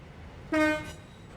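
A train horn in a train simulator game gives one short, loud blast that fades over a quiet rail background.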